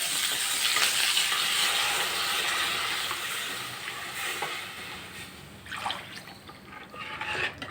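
Curry leaves and finely chopped chillies dropped into hot oil for kadhi, a bright hissing sizzle that swells and then settles, followed by a few wet stirring and clinking sounds near the end, without speech.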